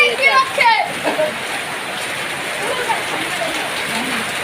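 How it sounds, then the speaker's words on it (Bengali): Steady rain pours down in a broad, even hiss around a house being cleaned, with a voice briefly audible near the start before the downpour carries on alone. "বৃষ্টি নেমে পড়েছে এটাই আমরা চেয়েছিলাম যে বৃষ্টি হোক"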